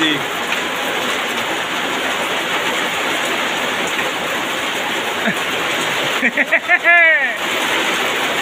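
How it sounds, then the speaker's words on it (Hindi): Heavy rain falls in a steady, dense hiss that continues throughout, with a brief voice heard near the end. "देख केमी वर्षा हो"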